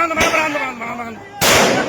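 Two sharp gunshots ring out loud and close in a daytime market yard in Sahibabad, Ghaziabad, separated by about a second, with an agitated voice shouting between them.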